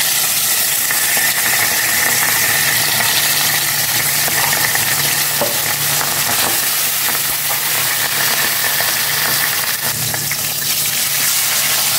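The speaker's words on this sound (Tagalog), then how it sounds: "Prito ko na po ito." Steady, loud crackling sizzle of food frying in hot oil, continuous and close throughout with no talking.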